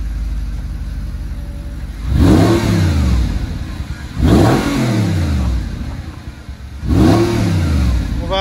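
An Audi R8 engine revs hard three times, each burst rising and falling in pitch, loud and close over a rumbling idle between pulls, with no talk.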